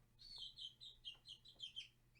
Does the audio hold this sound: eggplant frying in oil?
no